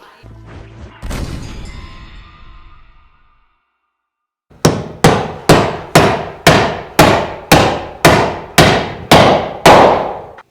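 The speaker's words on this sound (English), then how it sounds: "I'm going to finish nailing that up." Framing nails are driven during a 24x24 garage build, with about ten sharp, evenly spaced hammer blows ringing out loud and close after an earlier clatter and a brief silence.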